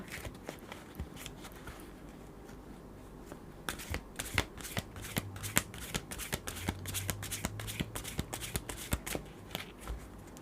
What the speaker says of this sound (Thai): เดี๋ยวเรามาเปิดไพ่ เพิ่มเติม นะคะ